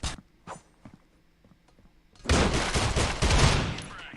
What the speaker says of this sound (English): Lots of gunfights going down over here.